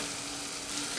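Eggs going into an egg curry (anda curry) in a pan over low flame, with a steady close sizzle and frying crackle running through the whole second at even loudness.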